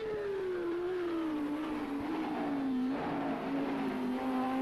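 Audi R8 LMS race car on the Nürburgring GP circuit, a steady engine drone that rises and falls slightly with speed, heard at a distance in moderate background noise.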